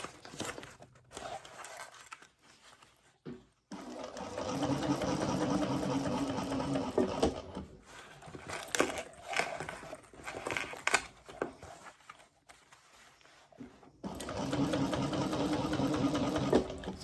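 A domestic sewing machine stitches a handbag made from butter wrappers, with the needle kept down while the bag is turned, giving close bursts of fast whirring run in long stretches, broken by short pauses and quiet handling rustles.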